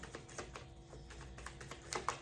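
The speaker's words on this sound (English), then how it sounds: "I'll probably shuffle some more." Quick, soft papery flicks and taps of tarot cards being shuffled close up repeat in an uneven rhythm, fairly quiet.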